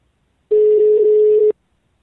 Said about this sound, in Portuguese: Seguinte, eu vou ligar agora pra Silvina.